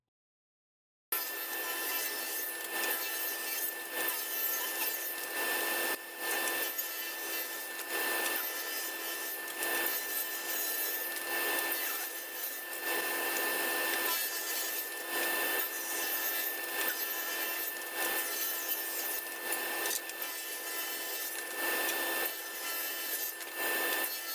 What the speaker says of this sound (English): enjoy the rest of the cutting experience on the table saw